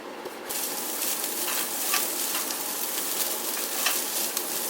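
Sausage frying in a pan, a steady close crackling sizzle with small pops throughout and no voices.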